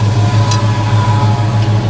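A 1963 Chevy one-ton truck engine running steadily just after being fired up, a loud, continuous low idle rumble with a slight pulsing rhythm up close, and no talk over it.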